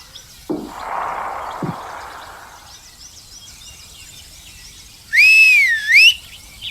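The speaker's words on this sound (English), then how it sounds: "If you click on T, you will whistle." A game character in A Twisted Path To Renown whistles once, a short, clear rising-and-falling whistle heard alone after quieter game sounds.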